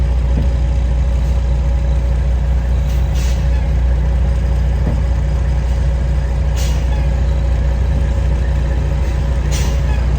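A 28-year-old cabover truck idles loudly with a steady low engine rumble while short air hisses from the air brake system, tested through a new foot pedal valve, break through a few times, close up and with no talking.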